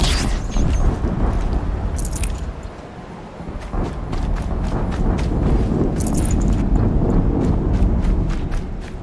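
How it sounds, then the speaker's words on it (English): Another explosion erupts in the PS5 game Horizon Zero Dawn, a loud booming burst among dense game effects, with sharp impacts and rumbling that rise and fall over several seconds. "Another explosion."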